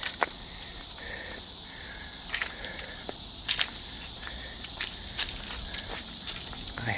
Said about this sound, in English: The cicadas are singing away.